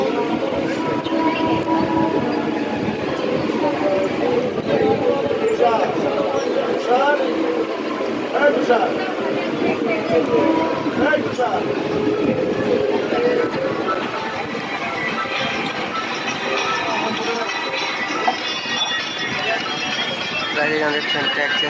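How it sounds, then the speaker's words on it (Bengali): A non-AC local train rolls slowly along the tracks while switching tracks, with a steady broadband rumble and clatter, continuous throughout, while a voice talks intermittently over it. "আমাদের ট্রেনটাকে স্লো করে দেওয়া হলো কারণ কি ওখানে ট্র্যাক চেঞ্জ হচ্ছে"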